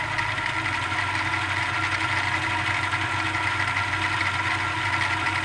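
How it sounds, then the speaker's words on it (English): Mini lathe motor running with a new encoder mount, a steady, loud mechanical hum and whine with constant vibration throughout, close and alone. "So I'll just fire it up real quick."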